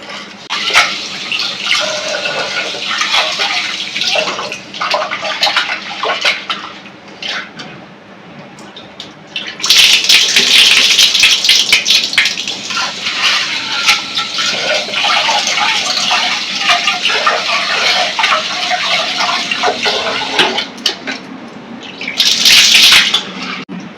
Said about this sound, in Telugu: ఇదిగోండి నీట్గా కడిగేసుకున్నాను